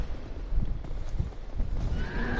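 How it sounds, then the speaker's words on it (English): A horse in the Dark Souls 2 video game lets out an angry whinny amid stamping hoof clatter, loud and close, with a rising neigh toward the end over game ambience. "Ooh, that's a angry horse."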